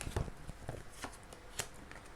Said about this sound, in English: I'll just shuffle a little bit more